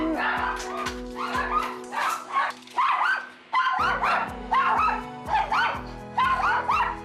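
Several dogs barking excitedly in a home after a doorbell, repeated sharp yips and barks in bursts, close and loud, with a person talking between them.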